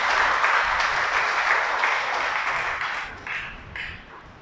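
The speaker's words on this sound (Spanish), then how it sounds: "Dale un aplauso al Creador por estas revelaciones." A crowd claps steadily, loud and dense at first, then thins out and fades to a few scattered claps.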